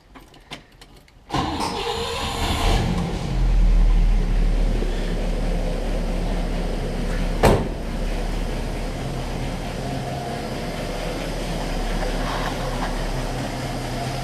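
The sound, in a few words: 1960 Pontiac barn find engine starting and running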